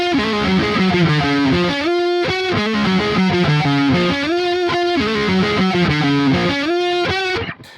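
Electric guitar plugged straight into an audio interface and run through the Neural DSP Archetype Nolly amp plugin, playing a distorted riff of chugging low notes and sustained higher chords, loud and continuous, ending abruptly.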